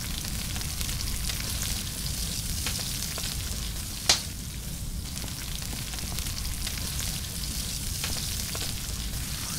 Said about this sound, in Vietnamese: Thử nướng cua lên ơi.